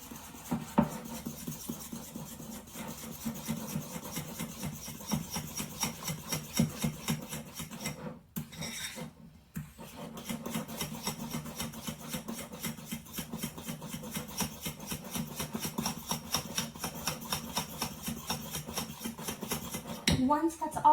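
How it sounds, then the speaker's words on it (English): Flour being stirred into sourdough starter in a bowl, a steady scraping and rasping of utensil against the bowl that continues through most of the clip, with a short pause near the middle. "Make sure that you're getting the flour all the way mixed in to the starter."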